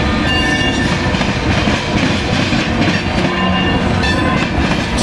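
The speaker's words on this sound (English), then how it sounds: "This will be a Decatur to Mattoon, Illinois train." A Norfolk Southern freight train hauling hoppers loaded with corn rolls past on an Illinois line near a rail crossing, with loud, continuous rumbling and clickety-clack of wheels close by for five seconds.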